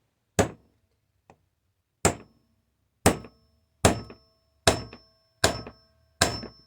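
Seven sharp metallic blows from a 4-pound hammer striking a hex driver ring out at a steady pace, each hit clear and close with a brief ringing tail.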